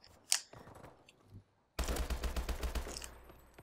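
Rapid bursts of automatic gunfire from the SAC 1.5 weapon in a first-person shooter match, a short burst early then a loud sustained volley of close, dense shots.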